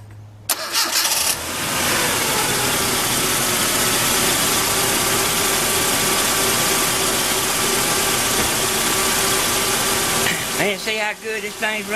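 A truck engine treated with Seafoam cranks briefly, catches and settles into a loud, steady idle close by, with a rough stumble near the end.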